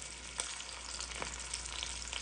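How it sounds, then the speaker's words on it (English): Veal pieces browning in hot olive oil give off a steady, close sizzle with crackling pops and spits throughout, no voices over it. "I hear that nice sizzle"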